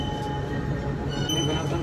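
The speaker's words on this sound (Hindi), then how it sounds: "यहाँ पे हमको टर्मिनल 2F पे जाना है, जिसके लिए हमें ट्रेन लेना पड़ेगा" An airport train carries passengers toward Terminal 2F, giving a steady rumbling ride with a faint high whine running throughout and no speech.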